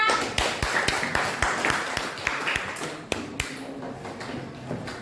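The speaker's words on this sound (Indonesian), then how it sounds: "Tepuk tangannya." Classroom students clap for a presenting group, a loose burst of individual hand claps with distinct sharp taps, loud and close at first, thinning out toward the end with a few scattered claps and faint voices.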